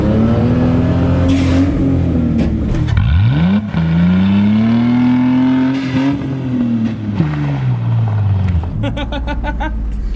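A $600 Mustang race car accelerating hard, its loud engine rising and falling in pitch through several gear changes, close and continuous, with brief voices underneath.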